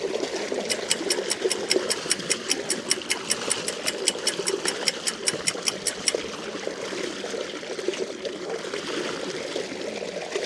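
A Honda Activa scooter engine runs steadily nearby, a continuous idling hum with a fast, regular ticking chatter through much of the run.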